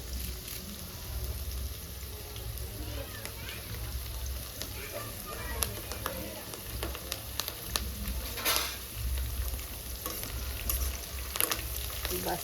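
Steady crackling sizzle of curry leaves frying in hot oil for a gongura pickle tempering, with occasional sharp pops and spatters throughout.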